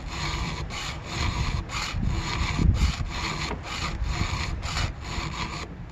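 A hand file is worked across chainsaw teeth to reprofile them for rip cutting, giving about a dozen steady, evenly spaced rasping strokes, close and moderately loud, with no voices.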